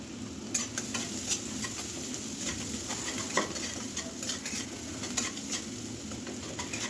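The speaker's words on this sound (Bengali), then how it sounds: "একটু হলুদ আর লবণ দিয়ে করলা আর আলুটা ভেজে নেব" Steady sizzling of bitter gourd and potatoes frying with turmeric and salt in a pan, with occasional sharp clicks of a utensil stirring and birds faintly calling in the background.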